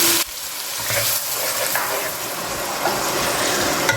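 Finely chopped onions fry in a pan for white chicken korma, giving a continuous close sizzle that starts with a sudden burst as they hit the hot oil, then settles into a steady hiss.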